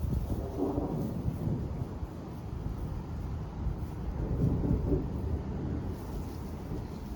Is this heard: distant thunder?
yes